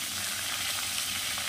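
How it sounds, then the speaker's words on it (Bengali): Hilsa fish heads frying in hot oil, giving a short, dense, steady sizzle with no voices. "এবার মাথাগুলোকে আমি ভেজে নেব"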